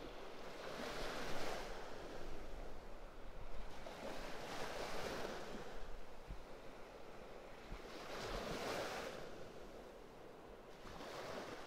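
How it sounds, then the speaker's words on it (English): Ocean surf rolling in at Pawleys Island beach, with steady waves breaking and washing ashore in repeated swells under a constant wind-blown roar, fairly close and continuous with no voices. "Watching these waves."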